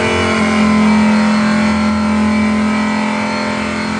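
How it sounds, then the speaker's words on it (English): A steady, droning video game car engine idles at an even pitch, loud and close, with a constant mechanical hum and no other sounds. "while your car's idle and while it's driving, they don't sound quite the same"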